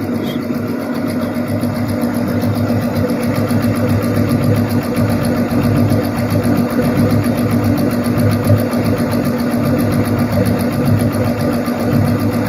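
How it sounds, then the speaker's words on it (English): A GDPE EX 11 embroidery machine runs steadily at 470 stitches per minute, giving a continuous, loud mechanical whir with a fast even stitching rhythm and no pauses. "So we are running the machine at 470 stitches per minute."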